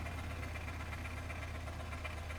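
Low, steady engine drone of an 8x8 truck creeping forward slowly in the GearBlocks video game, a continuous rumble with a faint knocking throb, alone and without talk.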